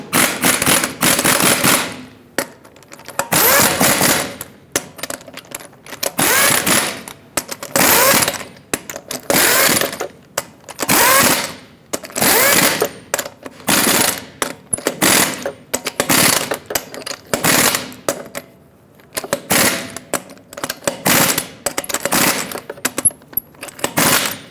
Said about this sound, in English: Install all 8 of your lug nuts, bottom them out in a cross pattern, and also in a cross pattern, torque them to 160 foot-pounds.